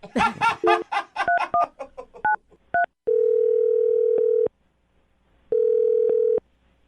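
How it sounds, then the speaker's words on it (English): Rapid touch-tone dialing beeps are followed by two long, steady ringback tones separated by a pause, with no talking. "I'm going to dial the phone number, get him on the phone"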